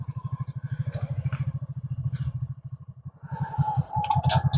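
A motorcycle rides off-road with a close, pulsing single-engine thump. The engine eases off midway, then picks up again with rattles and clatter over rough ground.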